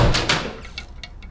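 A bathroom door operated at close range: handle rattle and door movement at the start, then a few short, high squeaks from the hinge, fairly quiet and with no voices.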